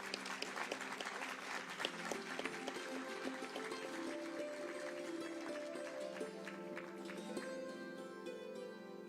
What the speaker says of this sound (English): Yes, applause would be great.